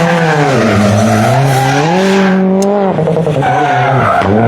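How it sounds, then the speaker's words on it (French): A rally car charges past on special stage ES5 of the Rallye National des Bornes at La Roche-sur-Foron, its engine loud and close, revving high, dipping on a lift-off and climbing again. "on entend arriver la voiture au loin"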